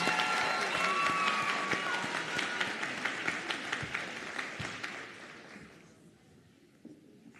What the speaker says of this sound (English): Round of applause for this great group of Tigers.